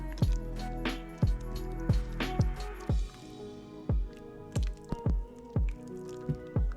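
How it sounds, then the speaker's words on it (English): Chunky double meat spaghetti sauce stirred in a pot, giving a run of wet, squishy plops and drips at an irregular rhythm, close and fairly loud with no talking. "We're gonna go ahead and give it a nice stir."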